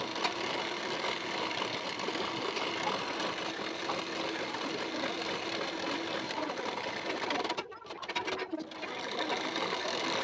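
Sewing machine running steadily, top-stitching close along the edge of a blouse neck band, with a brief pause near the end before the stitching resumes; no talking.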